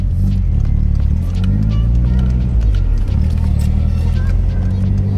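A car drives in a video game, its engine a steady, loud low rumble with faint ticks and rattles riding over the drone throughout.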